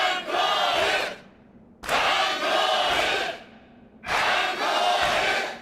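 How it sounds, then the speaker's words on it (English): A large crowd of what seems like fifty to a hundred people chanting in the anime Kill la Kill; three loud, dense bursts of massed voices, each about a second long, separated by short quieter gaps. "Trigger can make a crowd sound like it's got 50 to 100 people in it chanting"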